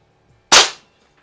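A single sharp crack from an RWS Diana LP8 magnum air pistol firing a Meisterkugeln pellet at plywood, close and loud, fading fast into quiet.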